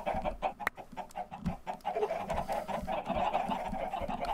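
Chickens in the survival game 7 Days cluck in a busy, overlapping chorus, short repeated calls from several birds close by, continuing throughout without speech.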